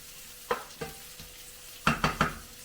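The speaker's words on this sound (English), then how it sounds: "Let that cook down a little bit." Collard greens cook down in a pot with a low simmering sizzle, punctuated by a handful of distinct utensil clanks, two spaced early and a quick cluster of three near the end.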